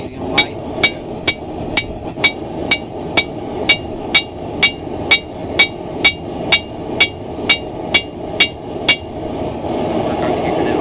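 Steady hand hammer blows forging a camp axe, about twenty sharp metallic strikes in an even, regular rhythm, close and loud over a low background rumble and hiss.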